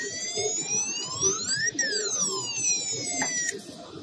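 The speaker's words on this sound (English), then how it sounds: "in case if someone came outside and just want to alert or to scare, like you can press this alarm" A video intercom's outdoor unit sounds its alarm, a loud electronic siren of rising and falling sweeping tones that repeats twice over a couple of seconds, with faint background noise beneath.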